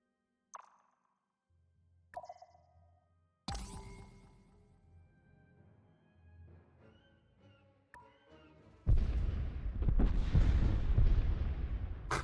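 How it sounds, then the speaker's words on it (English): Bombs dropping in a video game space battle, beginning with a few sparse plops and thuds, then building into rolling booms and a loud, dense blast near the end. "All their bombs missed."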